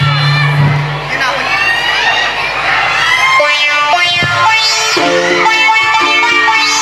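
Loud cheering, shouting and high whoops from a large crowd at a live concert during the Semirara Coal Festival 2025 on Semirara Island, with sustained musical tones entering partway through.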